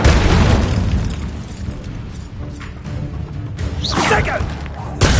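Incendio fire spell cast in Hogwarts Legacy combat: a loud whooshing burst at the start tails into rumbling, crackling flame, followed by another sharp swoosh and a final thump, all close and heavy.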